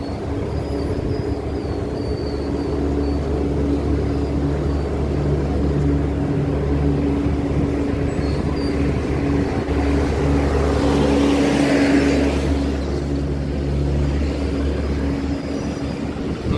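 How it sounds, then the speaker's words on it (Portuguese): Cars passing very close along a road in Navegantes, Brazil, a continuous low rumble of traffic with a louder whooshing pass building and fading near the middle, no voices. "os carros estão passando muito perto da gente"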